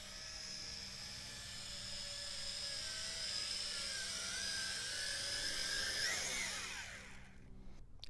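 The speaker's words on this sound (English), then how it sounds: "that's my maiden flight of the Tarantula X6 Quadcopter" A Tarantula X6 quadcopter drone on its maiden flight gives off a continuous, high-pitched buzzing whine whose pitch rises and falls as it manoeuvres. The sound is steady and fairly loud, then thins out and fades near the end.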